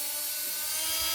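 Power drill spinning at high speed into metal during work on a C10 truck, a continuous whining hiss that stays steady and fairly close throughout the brief moment, with no talking.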